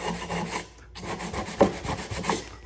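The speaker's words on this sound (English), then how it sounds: "I'm sanding these to take off just the little bit of fresh oxidation on the top layer." Steady rasping abrasion of sandpaper scrubbing fresh oxidation off small metal parts for a wooden aircraft rib, continuous back-and-forth strokes close by with brief pauses, no talking.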